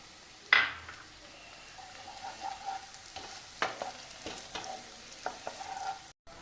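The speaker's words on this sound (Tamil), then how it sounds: "இது கூட பச்சை மிளகாவையும் சேர்த்து வதக்கும்." Green chillies sauté with small onions in a pan for millet balls: a soft sizzle with scattered spatula taps and scrapes, quiet and close, one sharper knock near the start.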